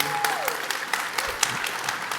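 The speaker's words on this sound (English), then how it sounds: "We all just give them a round of applause for being with us this morning." A morning gathering gives a short round of applause, with crisp, fairly close claps scattered over a low hum of voices and a brief tonal sound near the start.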